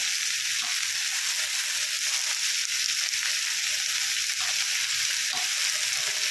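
Mixed vegetables for panch mishali torkari frying and being stirred in a pan, a constant bright sizzle broken by occasional soft scrapes and stirring knocks, with no talking.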